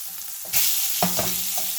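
Salmon fillets fry in a pan with a steady close sizzle, a louder burst of crackling about halfway through and a few soft scraping knocks after it.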